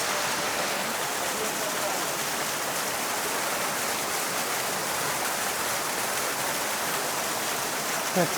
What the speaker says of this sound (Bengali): এটা একটা ছোট ঝর্ণা ওই দিক থেকে আলাদা হয়ে মেন ঝর্ণার থেকে আলাদা হয়ে এদিক দিয়ে নামছে